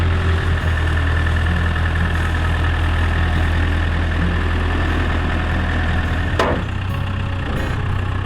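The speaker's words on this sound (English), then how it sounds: "Give it some more gas with your foot." A vehicle engine runs steadily as the driver gives it more gas on an abandoned rural property, a loud continuous low rumble with a brief sharp transient near the end and no talk.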